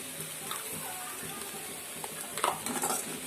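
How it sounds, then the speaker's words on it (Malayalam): Beef thoran being stirred in a pan: soft scraping of a spoon against the metal with faint sizzling underneath, quiet and close, a few sharper clinks near the end. "ഇതൊന്ന് മിക്സ് ചെയ്ത് കൊടുക്കാം."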